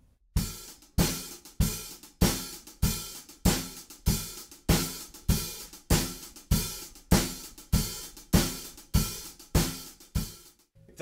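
Basic drum beat with a kick drum on every beat, snare on two and four, and a sizzling hi-hat, played as a steady, even groove of loud, regular hits throughout with no talking.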